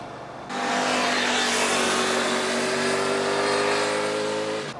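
A Suzuki GSX-8S motorcycle engine climbing an uphill road after a downshift, a loud steady drone that starts abruptly and holds for several seconds, its pitch slowly rising as the revs build.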